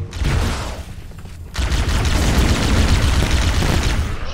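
Dense, continuous gunfire and explosive booms from a first-person shooter video game played on legendary difficulty, loud and sustained throughout, thickening into a heavier barrage partway through, with no clear talk.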